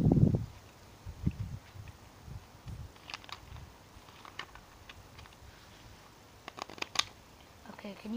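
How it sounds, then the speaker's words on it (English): A pack of playing cards shuffled by hand during a close-up card trick, a soft riffling patter with occasional sharper snaps, faint against a quiet room, with a brief voice at the start. "So now, I'm going to shuffle the pack up real good."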